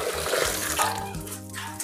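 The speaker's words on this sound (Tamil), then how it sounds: "நம்ம இப்போ தண்ணி ஊற்றி நல்லா கிளியராக கழுவிக்கலாம்." Water is poured over freshly cut mutton to wash it. The splashing is close and continuous for about two seconds, with a low gurgling flow underneath.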